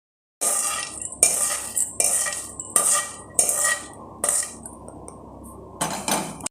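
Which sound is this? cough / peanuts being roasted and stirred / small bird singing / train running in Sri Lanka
peanuts being roasted and stirred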